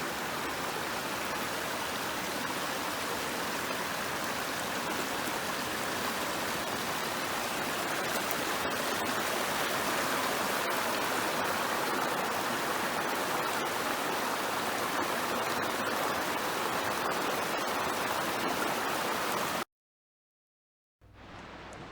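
A creek rushes through a road culvert along the Dosewallips in May, a steady broadband roar of flowing water, close and continuous, that ends in a sudden cut to silence near the end.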